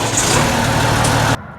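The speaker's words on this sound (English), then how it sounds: "first responders fire up their engines" A fire engine rumbles loud and close at idle, a dense, steady engine roar that cuts off abruptly just before the end.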